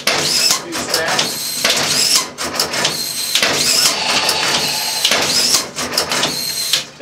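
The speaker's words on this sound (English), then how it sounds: "That's the machine recognizing that it's out of strap at the accumulator feed motor." A ROMP-4 strapping machine's accumulator feed motor running to empty out excess strap, a loud mechanical whirring and feeding drone in repeated bursts with short pauses between them.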